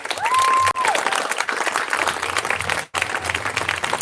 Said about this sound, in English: Yeah, you can clap up for that.